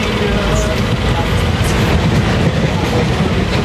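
A passenger train runs on its rails in India, producing a loud, continuous rumble and rattle from close by inside the moving train, with faint voices under it.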